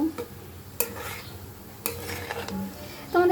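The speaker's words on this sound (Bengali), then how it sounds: "একটু ভালো করে একটু কষিয়ে নেব এই পেঁয়াজ ভাজা আর মরিচ ভাজার সাথে" Broken rice being stirred in a pan with fried onion and chili, a spatula scraping and knocking against metal in scattered strokes over a faint sizzle, fairly close and quiet.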